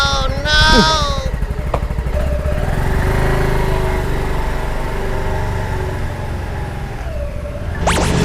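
Lambretta G350 scooter engine running steadily while being ridden, a continuous close drone with slight pitch shifts and a passing siren-like whine at the start. Someone talks over the sound.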